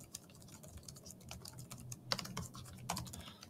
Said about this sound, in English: So I'll type in my question